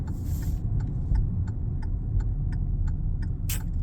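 Car cabin ride in Alicia's car, with a steady low engine and road rumble and a turn signal ticking evenly about every third of a second.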